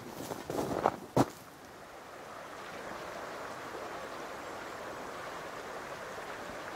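Creek water flowing in a steady, soft wash outdoors, after a couple of brief knocks at the start.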